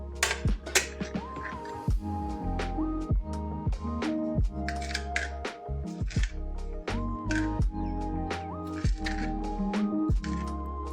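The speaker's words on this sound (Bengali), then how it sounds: "আর টমেটোটা একটু কেটে দিচ্ছি।" A knife chops through tomatoes on a board in a series of sharp, close taps at an uneven rhythm, each cut a crisp click against a quiet room, with no talking.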